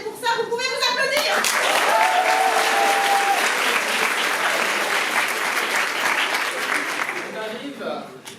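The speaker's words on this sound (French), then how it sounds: "vous pouvez vous applaudir" An audience at a theatre performance bursts into loud, sustained applause that swells quickly, holds strong, then tapers. Speech and a brief high voice are heard at the start before the clapping swells.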